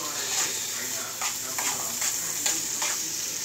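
Food sautéing in a pan during outdoor survival-style cooking, a steady sizzle broken by repeated stirring scrapes roughly every half second, with light speech-like sounds faintly in the background.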